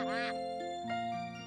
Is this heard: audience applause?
no